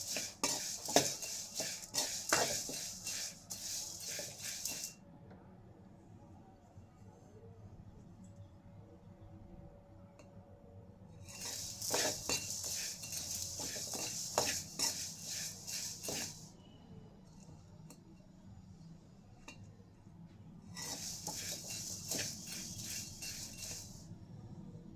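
Thick poha (flattened rice) being stirred and roasted in a pan: rattling, scraping spoon-on-pan strokes in three bursts, separated by quieter stretches of low background sound.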